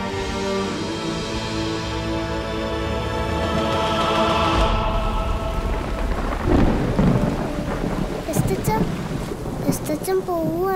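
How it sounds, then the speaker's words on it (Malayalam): Heavy rain and rolling thunder in a dramatic film scene, a steady loud downpour with a big thunder rumble swelling near the middle, while a voice speaks faintly under the storm toward the end. "മഴ കൊള്ളാൻ നിൽക്കാതെ റാഹേലമ്മയും കൊണ്ട് ആശ്രയത്തിലേക്ക് പോ."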